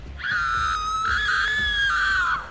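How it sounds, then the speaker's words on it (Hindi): A princess's high, sustained scream rings out loud and close as a horror story effect, holding a strained pitch for about two seconds with a brief break partway before trailing off. "वो राजकुमारी चिल्लाई"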